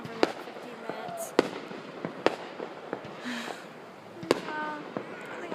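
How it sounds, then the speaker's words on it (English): Fireworks going off outdoors: several loud, sharp bangs at irregular intervals over a low crackling background, with people talking between the blasts. "I just like watching fireworks."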